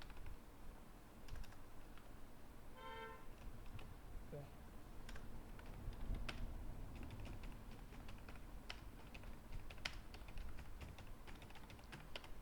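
Rapid typing on a computer keyboard as an address is entered into an online form, with steady clicking keystrokes running through the whole stretch, close and clear, with brief pauses.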